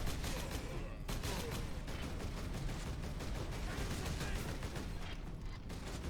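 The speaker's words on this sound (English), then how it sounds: "The awesome might of a bolter." Bolter gunfire from the Warhammer 40,000 Space Marine video game, a dense, relentless barrage of loud, rapid shots that fills the whole stretch without a pause.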